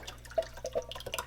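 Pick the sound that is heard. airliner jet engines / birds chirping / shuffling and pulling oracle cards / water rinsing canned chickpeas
water rinsing canned chickpeas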